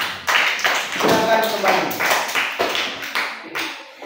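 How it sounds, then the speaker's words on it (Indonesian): Students in a classroom applaud briefly, a burst of claps and taps mixed with a teacher speaking over them. "Tepuk tangan sekali lagi."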